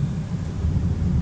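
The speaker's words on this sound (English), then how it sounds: "it just started pouring outside" Heavy rain pours outside during wheel polishing. A dense, steady broadband wash with a low rumble fills the whole short stretch, and no one speaks.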